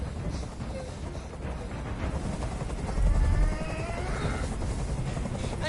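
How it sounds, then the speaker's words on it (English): Inside the video game Detroit: Become Human, a helicopter hovers overhead, its steady, loud rotor chop and engine roar filling the scene continuously, with a faint voice occasionally surfacing beneath the noise. "Tell that helicopter to get out of here."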